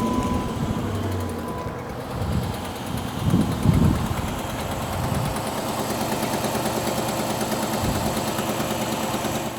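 Chrysler 300 V8 cranks and catches, then settles into a loud, rough, knocking idle with a steady low throb and rattling vibration, close up with no talk.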